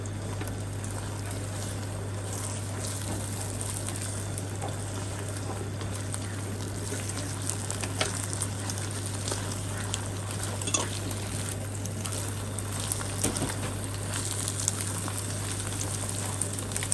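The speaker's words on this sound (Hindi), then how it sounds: "आप इनको आहिस्ता आहिस्ता हिलाते जाएंगे ताकि जो कच्चा अंडा है वो नीचे आता जाए तेल में" Eggs sizzling in hot oil while being stirred slowly, a soft steady crackle and hiss with faint scraping, quiet and continuous over a low electrical hum.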